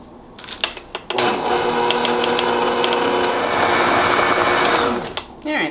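Pumpkin cake batter beaten by hand with detached mixer beaters, a steady close whirring, rattling churn that runs nearly continuously for several seconds after a few brief knocks.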